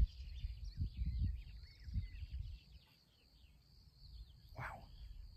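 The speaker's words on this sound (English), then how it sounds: "Probably hear the grasshoppers doing their little jeep jeep." Grasshoppers chirp in the Marais Poitevin wetlands of France, making a thin, steady high buzz that runs throughout. Faint rustling and low knocks sit underneath, and a brief bird call comes near the end.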